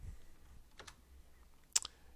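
A few quiet keystrokes on a computer keyboard as a Java command is typed, sparse and close, with no talking.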